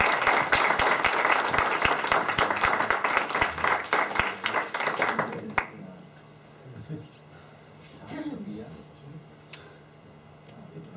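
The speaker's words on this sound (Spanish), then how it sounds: "Lo aplaudimos, ¿verdad?" An audience at a talk gives lively applause that lasts about five seconds and then stops abruptly, followed by quiet room noise and a few faint murmurs.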